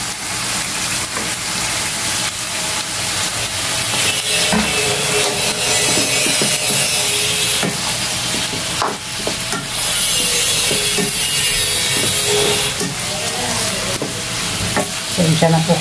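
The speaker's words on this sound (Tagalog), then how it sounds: "may nagwe-welding sa kabila, kaya medyo maingay ang background natin" Welding next door crackles and sizzles steadily as a harsh continuous hiss with scattered pops, loud in the background of a kitchen where chicken curry is being cooked.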